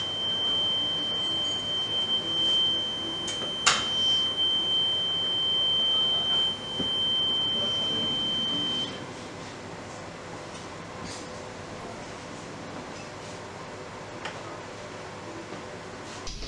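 A high, continuous electronic smoke detector alarm tone sounds for about nine seconds during a reconditioned detector head test, then stops, leaving quiet room hum with a few faint clicks.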